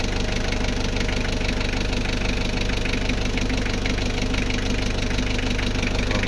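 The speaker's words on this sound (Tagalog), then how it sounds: "nag-automatic yung compressor." A Mitsubishi L300 van engine idles steadily with its air-conditioning compressor running, a constant close mechanical hum and knock with no pauses.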